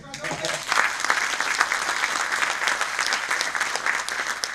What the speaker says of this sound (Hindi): बहुत कम तालियां आ रही हैं।